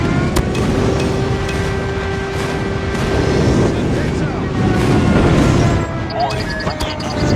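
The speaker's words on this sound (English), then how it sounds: "Friendly airstrike incoming." Airstrike explosions rumble in COD Mobile, with heavy booms and a dense, continuous roar of gunfire and battle noise. Game announcer voices speak over the din.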